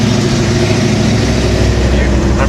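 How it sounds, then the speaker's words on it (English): A car exhaust switched into its loud Menace mode with the valves fully open, giving a steady, deep, rumbling engine drone that stays loud and close throughout with a faint voice underneath. "Menace mode, we open it up. The exhaust goes full open."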